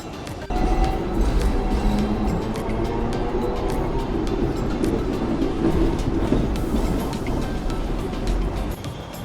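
A Hong Kong tram runs along the Island line with a loud, continuous rolling rumble and scattered metallic clicks and rattles from the wheels and car body.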